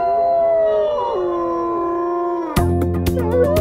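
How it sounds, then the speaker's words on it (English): Wolves howl in long, wavering, overlapping tones, answering a raven's call in a wild setting with bison nearby; a denser chorus of howls and yips breaks in loudly near the end. "Wolves! And they're answering."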